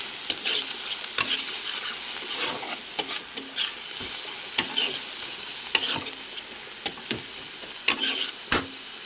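Chopped onion, chili, garlic and ginger fry in a pan for an egg curry, a continuous sizzle broken by repeated sharp scrapes and knocks of a spoon stirring the mixture close up.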